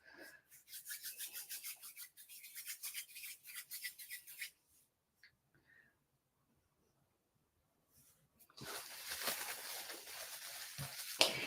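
Air-dried clay being kneaded and warmed between the hands, close soft rubbing and squeezing in rhythmic bursts, then a pause, then denser, louder working of the clay.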